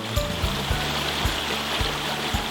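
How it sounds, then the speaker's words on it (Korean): Stream water flowing steadily through a mountain valley on a rainy day, a constant broadband rush with a low rhythmic thumping recurring every half second or so underneath. "비 올 때 듣는 계곡 물소리"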